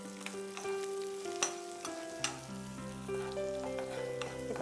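Onions frying in hot oil with mustard seeds, urad dal and curry leaves give a soft steady sizzle with occasional light clicks and taps, faint and close, under a sustained background musical tone.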